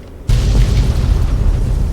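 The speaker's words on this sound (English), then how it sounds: "There's a big explosion for no reason." A sudden loud boom from a mine going off in Fallout 3 erupts after a short quiet lead-in, followed by a sustained low rumbling roar that fills the rest of the moment.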